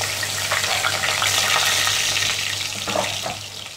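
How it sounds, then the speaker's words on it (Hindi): Chopped onion frying over medium flame in a pan, with asafoetida and spices for a Konkani prawn, potato and drumstick curry, gives a dense continuous sizzle with soft stirring scrapes and a low hum underneath, and no one talks. "प्याज को पिंक होने तक फ्राई कर लेंगे मीडियम फ्लेम पे"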